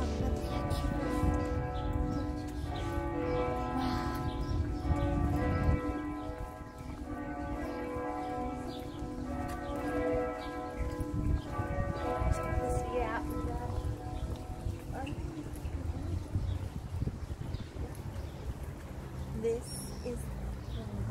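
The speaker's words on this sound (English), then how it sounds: "We hear the bell chime. I think it's 12 o'clock." A church bell chimes repeatedly with ringing harmonic tones for about fifteen seconds, then fades, with background chatter and street noise throughout in a European town.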